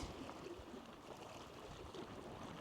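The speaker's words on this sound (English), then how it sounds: "the restless lapping of the waves" Waves lap gently and continuously at a shore. The soft, faint wash stays steady and distant, with no voices.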